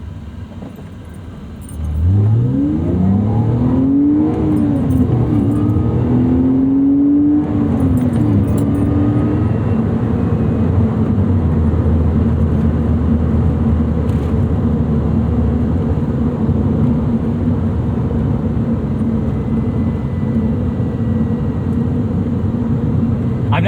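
A 2001 BMW Z3 3.0i six-cylinder engine pulls hard from inside the car, revving up through gear changes with rising and falling pitch, then holding a loud, steady drone under the cabin noise.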